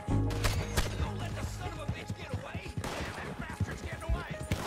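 Scattered gunshots in Red Dead Redemption 2 during a bounty chase, several sharp cracks in irregular succession over rumbling movement, with a voice speaking over them.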